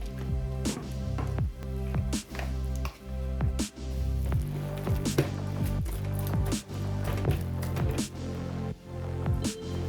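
Hands knead stiff samosa dough in a bowl, giving repeated soft squishing and slapping presses close by in an irregular rhythm, with no talk.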